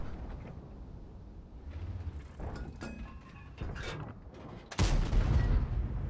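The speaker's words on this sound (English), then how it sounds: "And another shot, no help." A Centurion Mk 7/1 tank in a tank video game fires its cannon on the Live Oaks map: mechanical clanks and rattles build up, then one loud, booming shot lands near the end.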